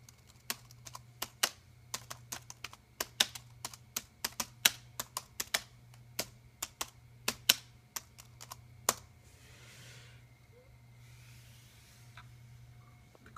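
Quiet, close keystrokes on a slightly mushy Compaq Armada 4130T laptop keyboard, a run of irregular clicks that stops partway, leaving faint low hum and soft rustling.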